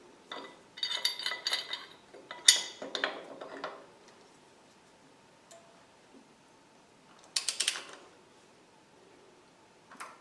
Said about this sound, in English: we're going to get my big pipe wrench